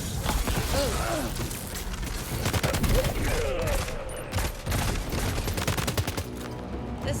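Rapid bursts of gunfire in the video game Death Stranding 2, which includes a sniper rifle, come as dense repeated cracks throughout, loud and close, with some voice sounds mixed in.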